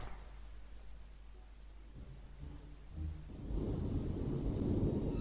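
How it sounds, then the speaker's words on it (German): A storm with thunder rumbles in the video game Ghost Master, starting as a low, steady wash of noise and swelling into a louder, broader roar over the last couple of seconds, with no voices. "Und er hier darf mal einen Sturm machen."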